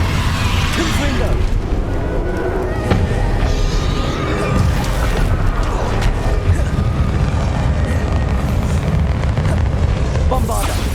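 Fire spell blasts from Hogwarts Legacy combat, repeated booming explosive bursts over a loud, continuous battle din with shouted spell calls throughout.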